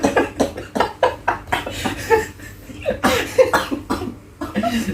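Repeated harsh coughing fits after a long puff of pomegranate e-liquid from a vape, close and loud, with a few short voiced breaths between bursts.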